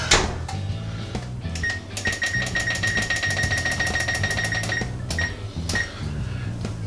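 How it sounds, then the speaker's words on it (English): A kitchen timer is set with a few scattered single beeps, then rings with a rapid run of about fifteen evenly spaced electronic beeps, followed by a few more isolated beeps, loud and close in a quiet kitchen. "Timer is set for 18 minutes."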